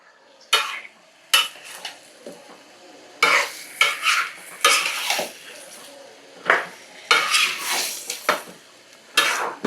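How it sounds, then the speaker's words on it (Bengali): Beef frying lightly with onions in a pot while it is stirred, loud scraping and clattering of a spoon against the pot in bursts over a soft sizzle, near and busy. "পেঁয়াজের মধ্যে আমরা মোটামুটি আমাদের মাংসটাকে একটু ভাজবো বা হালকা কষাবো।"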